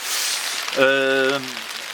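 Hail falls outdoors as a continuous broadband patter and hiss, with a brief voice speaking briefly over it partway through.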